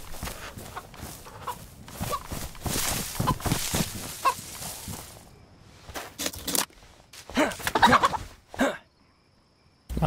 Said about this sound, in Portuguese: Matar a galinha também tá valendo.